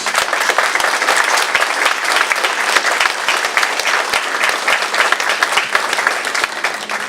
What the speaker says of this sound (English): So I'd like a big round of applause for all of our students.